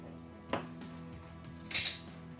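Ingredients mixed with parsley and a pinch of nutmeg clink against a bowl or pan, with two sharper utensil knocks standing out over a faint steady background hum.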